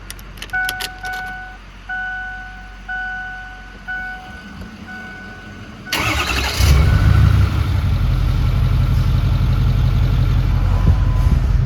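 A 6.0 diesel truck engine cranks and fires after a stretch of steady two-tone chiming, then settles into a loud, rough, broadband idle that holds close and steady to the end.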